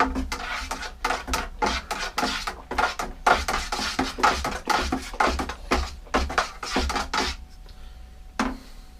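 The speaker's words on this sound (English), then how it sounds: "Let's give it a good stir first." Honey oat red ale being stirred before the yeast goes in, with a spoon repeatedly scraping and clanking against the pot in a steady, busy rhythm of close, sharp knocks.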